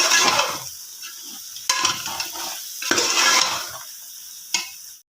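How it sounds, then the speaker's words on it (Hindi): Chicken sautéed in a pressure cooker pot for yakhni pulao, heard as bursts of loud, close scraping and frying hiss from stirring, separated by brief quieter pauses. "चिकन को हम 2 से 3 मिनट जो है वो भुनाई कर लेंगे"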